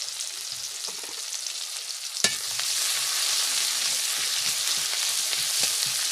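Onion, garlic and chili fry in hot oil for a tilapia curry, a steady close sizzle with one sharp clack near the start and soft scraping stirs through the rest.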